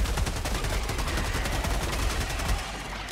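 Rapid, sustained gunfire from an assault rifle in the video game Helldivers 2, loud and continuous with dense repeated shots and no talk over it.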